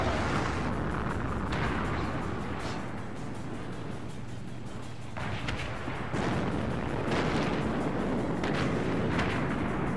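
Tank cannon fire in the World of Tanks video game from a Rhm.Borsig Waffenträger, heavy booming blasts and rumbling battle noise that run continuously and loudly through the scene.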